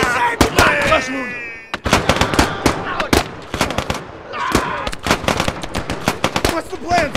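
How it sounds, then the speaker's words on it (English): Machine gun fire in the video game Call to Arms - Gates of Hell: Ostfront during a Brécourt Manor assault, sharp rapid bursts and single cracks, loud and close, with shouting voices between the shots. "Look out! Ah, shooting!"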